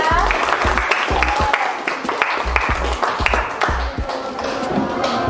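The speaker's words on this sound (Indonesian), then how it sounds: "Boleh kasih tepuk tangan untuk Raffi ya." Classroom applause for a student, a steady patter of clapping from a group of students filling the room without a break.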